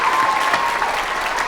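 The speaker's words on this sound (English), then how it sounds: "give them a round of applause" An audience at a school DARE graduation applauds, a close, full burst of steady clapping that fills the short moment.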